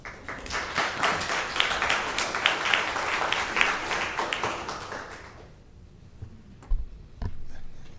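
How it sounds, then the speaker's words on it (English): An audience at a public planning and zoning meeting claps in a burst of scattered applause that fades after about five seconds, leaving a quiet room with a few faint knocks. "you can tell by the applause, we don't want this development"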